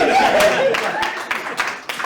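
An audience claps after an improv comedy scene at a live show. A dense, steady patter of hand claps runs close and fairly loud throughout, with a few sharper individual claps standing out.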